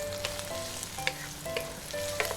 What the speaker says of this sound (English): Just let it boil and simmering is a good one.